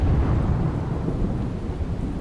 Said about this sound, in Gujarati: જૂનાગઢ જિલ્લામાં અવિરત ધોધમાર વરસાદ પડ્યો છે